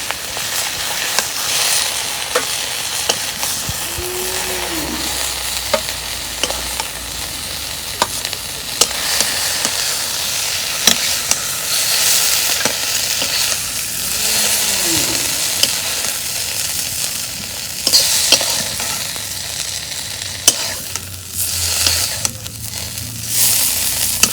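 Silver carp fish frying in a pan, a continuous dense sizzle and crackle of hot oil with occasional clinks and scrapes, close and steady throughout.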